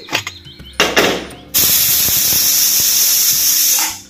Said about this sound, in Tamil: குக்கர் மூடி போட்டு நம்ம ஒரு 5 விசில் வச்சு நம்ம எடுத்துட்டு வந்துருவோம்